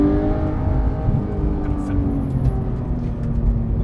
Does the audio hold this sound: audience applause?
no